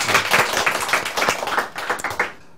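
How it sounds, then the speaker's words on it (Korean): An audience at a live Korean talk show recording claps in a brief burst of applause, with a dense patter of hands that swells and then thins out before stopping. "박수 좀 주세요."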